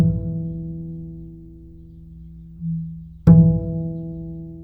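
A double bass harmonic on the second string rings out and fades, then is plucked again harp-style with the middle finger reaching far from the thumb. The fresh attack is bright and close, and the note sustains evenly afterward, with no voices.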